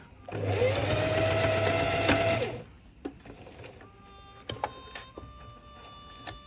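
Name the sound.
sewing machine stitching a wine bottle tote bag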